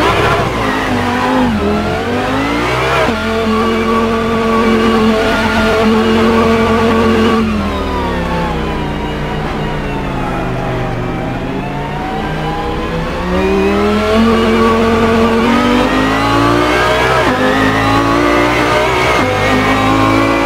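Modded car engine in the Assetto Corsa racing game, revving up and down with a steady mid-pitched drone and rising, falling pitch sweeps, loud and continuous throughout.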